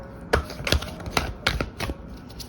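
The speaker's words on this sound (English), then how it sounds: "I'm gonna shuffle for your next cards." Tarot cards being shuffled during a card reading, five sharp riffling bursts in quick succession, fairly close and clear with no talking.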